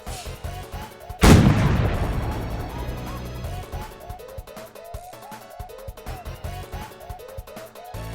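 A single loud cannon blast booms out and rumbles away over a few seconds, with quieter game music and small effects continuing around it.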